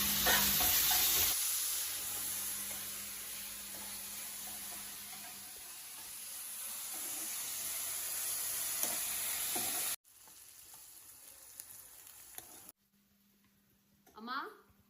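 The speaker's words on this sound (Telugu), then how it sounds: "ఆనియన్స్ ఫ్రై అయినాయా?" Onions frying in a home kitchen pan make a loud, steady sizzle for most of the stretch, then the sound drops abruptly to a quieter background with a brief voice near the end.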